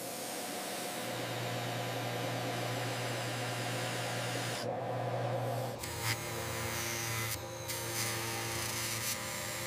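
A machine drills the winding crown port into a steel luxury watch case in a Swiss factory, a steady loud mechanical hiss and whir that briefly drops out and changes tone partway through, with no talking.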